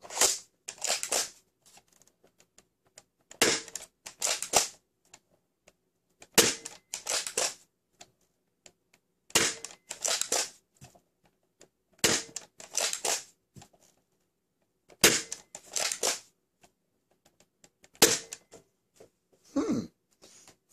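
Dart Zone Pro MK-2.1 blaster firing bamboo darts, heard as about seven sharp, separate bursts spaced a few seconds apart, each a quick clack-and-whoosh of the mechanism cycling, loud and close with near silence between shots.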